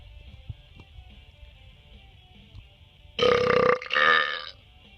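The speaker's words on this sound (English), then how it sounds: "Other people burps." Two loud, close burps in a row, each under a second and rough and voiced, burst out after a few seconds of quiet room noise and light tapping.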